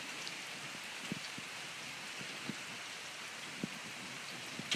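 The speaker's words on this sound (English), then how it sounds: "So the rain comes off of the hill there and runs around and is taken away from the house." Steady rain falls and runs off a hill around a newly built driveway, a constant soft hiss with occasional louder drips and splashes close by.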